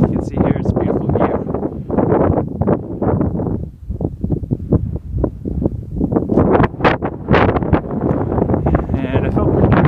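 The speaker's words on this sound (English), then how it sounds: "It's a bit windier up here." Gusty wind buffets the microphone on a hilltop in Southern Maine on a cold winter hike, a loud rumbling roar that rises and falls in uneven surges.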